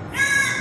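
A single crow gives one drawn-out, harsh caw close to the microphone at a temple celebration in Ayodhya, heard alone without talk.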